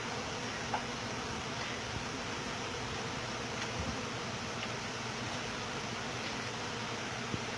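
Swarm of honey bees droning steadily and close during a live removal from a house soffit, a dense continuous buzz with no talk.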